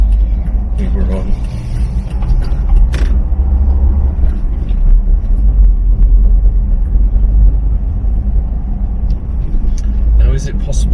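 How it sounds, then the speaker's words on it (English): A small green RF Regal bus drives through single-track countryside lanes on a summer day, giving a steady, close engine rumble with a few brief clanks and rattles. "A little green bus driving through these single lanes on a summer's day"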